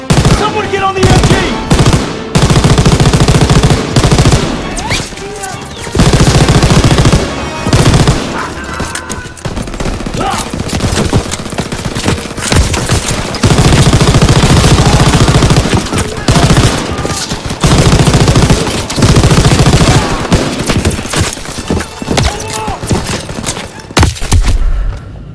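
Call of Duty: WWII battle with sustained, loud machine gun fire in long rattling bursts broken by short pauses, mixed with other gunfire and explosions and a few shouted voices.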